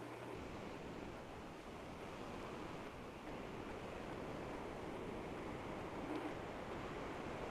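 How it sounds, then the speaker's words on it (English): Small, summer-style waves lap steadily on a model beach in a wave tank, a continuous soft wash of water with no distinct breaks, at an even moderate level. "First, we'll make some small waves"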